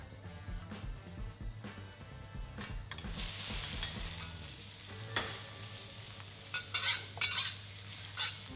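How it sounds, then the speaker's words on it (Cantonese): Mushrooms are stir-fried in a wok over high heat. A spatula scrapes in quick strokes, and a strong sizzle swells partway through and continues to the end. "我哋要將個菇咧輕輕炒佢"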